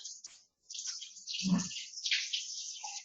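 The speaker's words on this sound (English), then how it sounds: "I'm going to dump off the extra water" Excess soaking water poured off a container of cashews before blending, a hissy splashing pour with a short gurgling dump in the middle, close and fairly quiet, with no speech.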